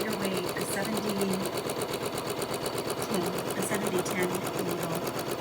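An embroidery sewing machine stitches with Simthread thread and a lighter 70/10 needle, a fast steady chatter of needle strokes running throughout at close range, with a voice speaking faintly underneath.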